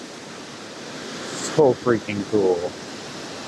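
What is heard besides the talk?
Lady Falls waterfall cascading in the forest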